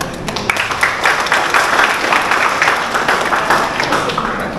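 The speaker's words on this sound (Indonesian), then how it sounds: "Terima kasih sekali lagi tepuk tangannya." Lively audience applause at a job-training graduation ceremony, many hands clapping loudly and close with uneven swells and scattered sharper claps, no voices on top.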